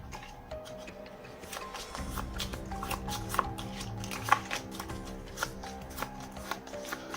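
Playing cards shuffled and mixed by hand during a card trick, giving a steady run of soft riffling and sliding with small clicks, close and moderately quiet, with no talking.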